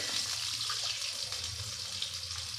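Water poured from a cup into a cooking pot while making rice upma with brinjal, a steady close splashing gush that runs without a break and with no talk.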